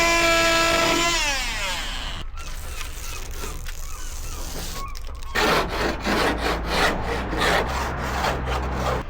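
A power saw cutting window openings through the metal side panel of a long-wheelbase VW Transporter T6 van, a loud continuous harsh grinding rasp with a rhythmic chattering stroke pattern in the second half.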